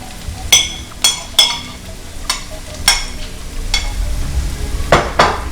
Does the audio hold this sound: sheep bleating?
no